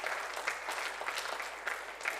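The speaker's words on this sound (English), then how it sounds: "give them a round of applause" Applause at a Sunday church service fills the whole moment, with many hands clapping in a dense, even patter at moderate distance.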